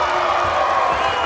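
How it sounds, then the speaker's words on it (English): A school volleyball crowd in the stands rolls a wave of cheering and whooping through the gym, a steady wash of many voices close and loud throughout. "It's a wave going through our crowd here."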